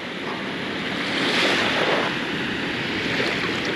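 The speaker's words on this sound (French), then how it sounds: "on peut considérer que voici l'océan Indien par là" Indian Ocean surf at Cap Sainte Marie, Madagascar: a continuous wash of breaking waves swelling slightly midway, mixed with wind buffeting the microphone, no voices.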